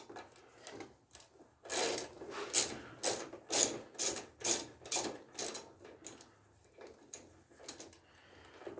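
Spark plug threaded in on a riding mower during fall service: a steady series of about a dozen close, crisp ratchet clicks in a regular rhythm, fading near the end, with no talk.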